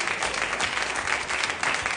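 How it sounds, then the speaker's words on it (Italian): Studio audience on an Italian television cooking show breaks into steady, dense applause, a continuous wash of many hands clapping at moderate level with no voices on top. "Gli fate un applauso, perché non è che proprio tutti ve lo spiegano così bene."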